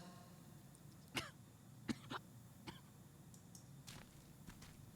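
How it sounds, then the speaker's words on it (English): Coughs from a video game character named Okita, several short harsh bursts spread apart over a quiet ambient background, no talk. "I heard Okita hacking his lungs up as he coughed"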